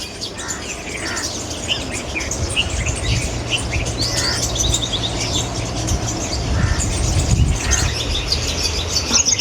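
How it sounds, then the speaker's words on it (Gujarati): Many birds chirp and squawk steadily from a tree, a busy chorus of overlapping calls over constant low background rumble, with no one talking. "તમે શાંતિથી અને ધ્યાનથી આવા સાંભળજો મિત્રો આ પક્ષીઓની કલકલાટ"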